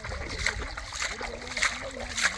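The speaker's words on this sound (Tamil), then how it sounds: "அண்ணே கருவாடே ஏற்கனவே உப்பு மறுபடியும் உப்பு தண்ணியில் அலசுறங்களே" Dried salted fish is swished and rinsed in salt water at the seashore, giving a run of small splashes and sloshes at close range, with one louder splash at the end.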